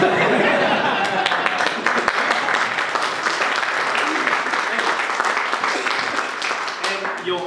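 Audience clapping at a fun conference, dense and steady applause filling the room for about seven seconds, with scattered chuckles and chatter mixed in.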